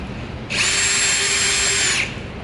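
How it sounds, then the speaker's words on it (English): Powered screwdriver whirring steadily for about a second and a half while backing a screw out of a 2023 Hyundai Sonata door panel, close and loud with no talk. "you can either take a regular screwdriver or a powered screwdriver."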